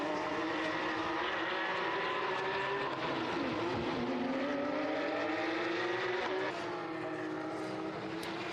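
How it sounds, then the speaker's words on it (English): Race car engines droning in the pit lane during a Porsche Sports Cup Suisse round at Monza, steady and loud with rising and falling engine tones throughout. "I'm hearing the engine fire up down the pit lane though."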